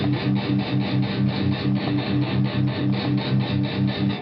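Heavy distorted electric guitar played through a Zoom G1on pedal with its parametric EQ engaged, rhythmic palm-muted chugs pulsing evenly and loudly with a saturated, compressed tone and no talking over it.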